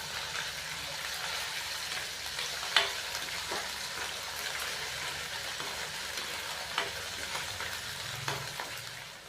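Ginger, garlic and green chili paste frying with browned onions in a pan, a steady close sizzle throughout with a few sharp spatters and stirring clicks, no voices.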